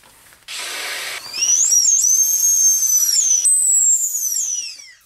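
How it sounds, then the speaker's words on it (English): A short hiss, then shrill rising and falling squeals from a squeaky toy hammer sound close and loud as it is squeezed repeatedly, with no voices. "It's a squeaky hammer"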